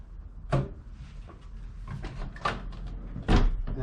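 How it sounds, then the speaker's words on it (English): Door being opened on a 1998 Jeep Cherokee during a rock slider fitting, giving a few sharp clunks and latch knocks close by, with quieter rattles and handling noise between them. "That door opens."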